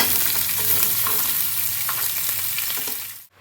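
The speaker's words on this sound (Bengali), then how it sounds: "এই যে মাছের মাথাটা ভাজা শুরু" Fish head frying in a pan, giving a loud, steady, close sizzle and crackle throughout that cuts out abruptly just before the end.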